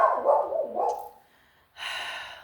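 Dogs barking at a home as a neighbor pulls in, a few loud close barks in quick bursts, then a short pause before another sharp bark.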